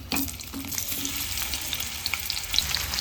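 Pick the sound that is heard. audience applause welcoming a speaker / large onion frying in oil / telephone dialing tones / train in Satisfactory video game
large onion frying in oil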